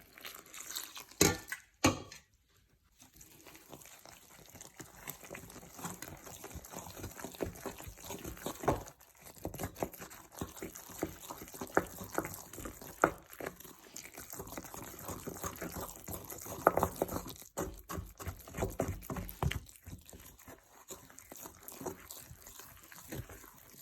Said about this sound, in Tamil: கொஞ்சம் தண்ணியாக ஊற்றி இதை மிக்ஸ் பண்ண போகிறேன்.